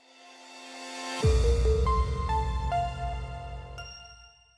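A short musical jingle with a rising low swoop followed by bright, chiming notes stepping through a melody before fading out.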